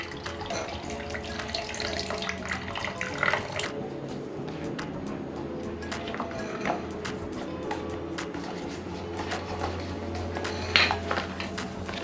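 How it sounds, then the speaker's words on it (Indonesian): Water pours and drains out of a camping pot of cooked noodles outdoors, a steady splashing gush running throughout at close range, with a couple of louder splashes and no talk. "Dan airnya saya tuangin."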